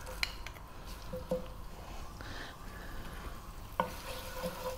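Cumin seeds and curry leaves sizzle in hot sunflower oil in a pan, a steady low crackle with a few sharper pops and clinks of a utensil, close and moderately quiet, with no talking.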